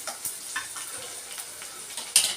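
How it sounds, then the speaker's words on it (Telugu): Onion frying in a pan sizzles softly and steadily, with a few faint clicks and stirring touches over the brief stretch. "ఆ ఉల్లిపాయ వేసి ఉల్లిపాయ బ్రౌన్గా అయ్యేంత వరకు వేయించుకోవాలి."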